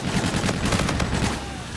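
Rapid automatic gunfire in the shooter game Call of Duty: Infinite Warfare, a loud burst of repeated shots in quick succession, easing slightly near the end.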